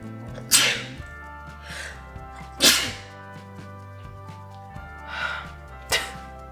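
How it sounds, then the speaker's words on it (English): Several sharp, breathy bursts, four or so spaced over a few seconds, like stifled sneezes or snorts, over a faint steady hum. "oh my god, I'm gonna sneeze."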